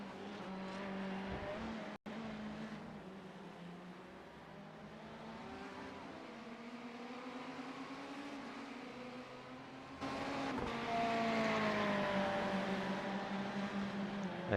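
GT3 race cars lapping Sebring in iRacing, engines droning and revving steadily with tyre noise, one sharp break near the start and the sound turning louder and brighter for the final few seconds, no voices.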